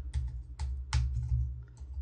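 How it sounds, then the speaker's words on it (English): Bursts of computer keyboard typing in short uneven clusters, with a steady low hum underneath and no talk. "Having serious trouble typing this morning."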